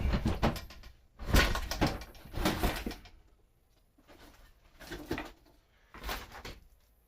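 Drawers being pulled open and pushed around while rummaging through papers and books, several woody scraping and knocking bursts in irregular succession, close and moderately loud, no talk.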